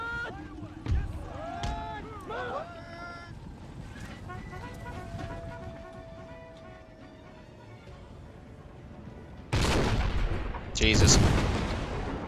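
Musket volleys and artillery booms in Empire Total War, American Civil War mod, with scattered shots early and two loud, heavy bursts of gunfire near the end, while someone talks and exclaims over the battle.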